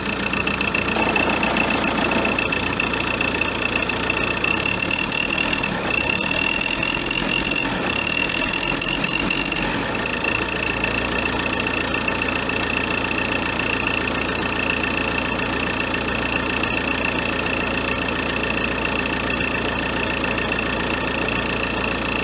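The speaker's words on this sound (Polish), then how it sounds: "Zobacz reakcję na gaz." Opel Vectra C engine with a clogged intake system revving to throttle, a loud continuous mechanical drone with ticking and rattling, slightly changing pitch partway through, close up without talk.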